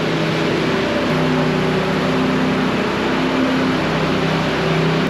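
A power float fitted with finishing blades works over a freshly coloured concrete floor slab, giving a steady, loud mechanical drone with a low motor hum and faint tonal whine, constant and unbroken throughout.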